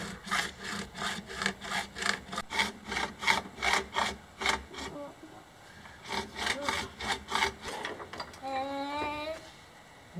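A pipe being sawn by hand for a kid's car speed resistor build, with steady rhythmic back-and-forth strokes, a short pause partway through, then more strokes; close and fairly loud, no talking.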